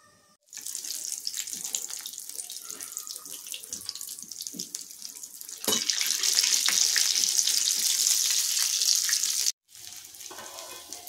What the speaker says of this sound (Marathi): वडे खूप सुंदर तळले गेले